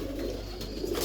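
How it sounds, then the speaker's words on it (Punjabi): Teddy pigeons kept as a pair coo softly in a low, continuous murmur, nearby and steady, with no voices over it. "ਟੈਡੀ ਕਬੂਤਰ ਤੁਹਾਨੂੰ ਦਿਖਾਉਣਾ ਚਾਹੁੰਦਾ ਵਾ"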